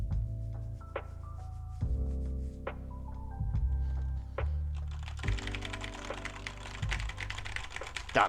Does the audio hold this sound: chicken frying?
no